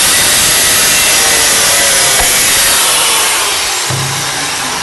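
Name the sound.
cutting through exhaust silencer flange bolts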